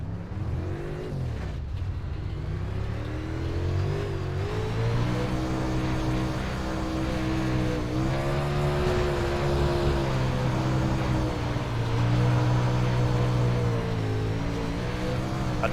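A dirt racing car engine in the iRacing video game drones loudly and continuously, its pitch rising and falling with throttle over a steady rumble, with no talking.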